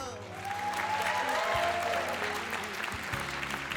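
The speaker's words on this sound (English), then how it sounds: "let's give another round of applause to our dancers" Spectators at a Hawaiian club lū'au applaud the dancers with a sustained wash of clapping, moderately distant, rising after a quiet start and continuing evenly to the end.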